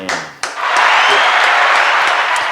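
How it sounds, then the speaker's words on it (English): After a brief stretch of talk, a loud burst of continuous clapping and applause rushes in and holds steady and close for the rest of the moment, as a wrestling podcast host is praised. "Gotta give you a clap up for that."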